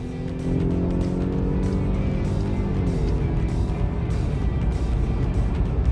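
A 2021 Jeep Grand Cherokee Laredo E on the highway is heard from inside the cabin as the engine drone climbs in pitch under throttle, over a steady bed of road and tire noise.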